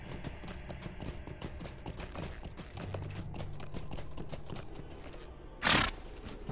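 Horse hooves clip-clop steadily at a gallop in the Lord of the Rings Online game, a continuous rhythmic patter with a brief louder burst near the end.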